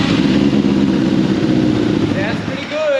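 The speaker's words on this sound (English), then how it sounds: "I was expecting no compression in this engine, but it actually sounds pretty good." A 1989 Yamaha FZR600 Genesis motorcycle engine runs steadily at a low idle, a continuous rumbling drone close by with a faint whine near the end.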